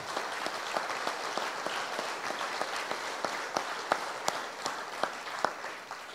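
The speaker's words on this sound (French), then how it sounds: "on peut à nouveau les applaudir" A New Year greetings gathering gives sustained applause. Many hands clap in a steady, even patter, with a few sharper claps standing out, and no one speaks.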